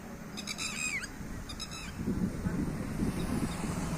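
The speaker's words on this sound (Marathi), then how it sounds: "टिटवी ही प्रसिद्ध आहे रात्री बेरात्री आवाज करण्यामध्ये." A red-wattled lapwing gives two quick bursts of shrill, repeated calls, fairly clear over a low background rumble that grows louder toward the end.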